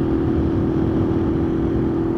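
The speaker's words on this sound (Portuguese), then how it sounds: "Vocês vão acompanhar o amaciamento desse motor aqui, ó." A brand-new motorcycle engine idling steadily during its break-in period, a close, loud, continuous hum with a constant low tone and no talking.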